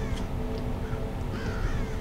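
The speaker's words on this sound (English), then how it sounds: "Shut up, bird." A crow caws loudly and repeatedly in the video game Thief, heard close over a dense low game ambience with no talk.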